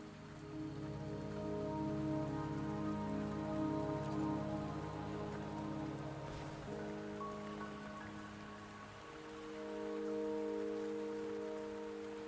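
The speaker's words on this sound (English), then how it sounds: "Don't worry, the rain won't last much longer." Steady rain falls across an outdoor mountain path in the Wuthering Waves video game, a soft continuous patter layered under tonal game music with no speech.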